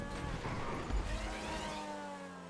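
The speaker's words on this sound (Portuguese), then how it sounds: "o barulho é muito igual de mosquito" A high, whiny, mosquito-like car engine buzz in GTA V drones steadily, close and fairly loud, its pitch wavering and bending like a racing car's motor.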